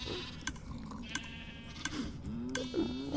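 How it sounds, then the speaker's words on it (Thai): Sheep in Minecraft bleat in wavering, nasal cries toward the end, rising in loudness, with a few sharp clicks scattered earlier over a quiet game background. "เดี๋ยวนะเมื่อกี้มีแกะใช่ไหม"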